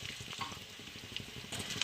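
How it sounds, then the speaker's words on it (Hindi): Gond, an edible gum, roasting in desi ghee in a pan, a steady soft sizzle and crackle with small popping bursts throughout and no voices. "सबसे पहले मैं इसमें शामिल करूँगी चारों गूंदें। इसे हम अच्छे से भून लेंगे।"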